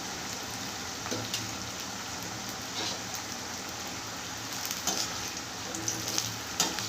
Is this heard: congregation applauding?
no